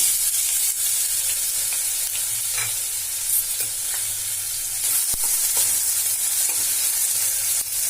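Chopped pineapple fries in a spoonful of ghee for shira, producing a loud, continuous hissing sizzle with scraping stir sounds throughout and no voices.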